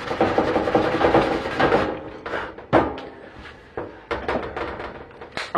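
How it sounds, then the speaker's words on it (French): Sheet metal being hand-sanded down to bare metal before soldering its edges watertight: close, continuous rasping strokes with uneven rhythm and a few short gaps. "je ponce un petit coup pour mettre"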